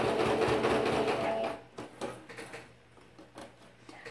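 A sewing machine stitches a pencil case with backstitching in a fast, close mechanical whir for about a second and a half, then stops, leaving quiet handling clicks and shuffles.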